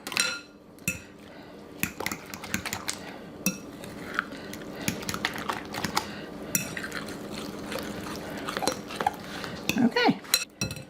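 A utensil stirs casserole ingredients with about two cups of cheese in a bowl, producing close, repeated scraping and clinking against the bowl with occasional sharper knocks throughout.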